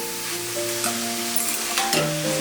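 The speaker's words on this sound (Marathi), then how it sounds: "आता हे छान परतून घेऊया।" Grated red carrots for gajar halwa sauté in a pan with a steady sizzle, broken by a few stirring scrapes and faint tonal hum, with no one talking.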